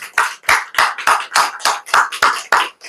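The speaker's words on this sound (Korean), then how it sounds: "자, 우리 다시 한번 크게 하나님 앞에 영광의 박수 올리겠습니다." A congregation at a Korean church service, Holy Mountain Zion Church in Gunha-ri, claps in steady unison: about ten crisp, evenly spaced claps over a few seconds, close and clear with no talk.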